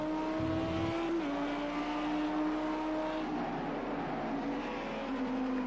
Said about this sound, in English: on board with Thorsten Schmidt inside his bright green Lamborghini